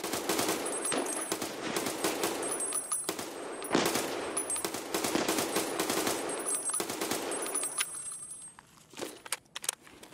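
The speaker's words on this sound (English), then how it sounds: "I'm at the machine gun." Machine gun fire in the Escape from Tarkov video game, loud rapid automatic bursts that are nearly continuous for about eight seconds, then trail off into a few scattered shots.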